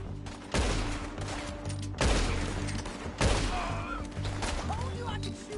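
Gunfire in Red Dead Redemption 2 erupts in three sharp, loud reports about a second apart, each followed by a rumbling tail, with low background noise between shots.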